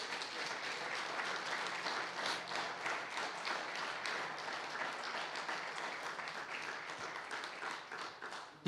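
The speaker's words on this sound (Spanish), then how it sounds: "¿Puede darle un aplauso gigante al Señor?" A church audience gives steady, sustained applause, a dense even wash of clapping at moderate distance that carries on for several seconds before a sudden loud thump at the very end.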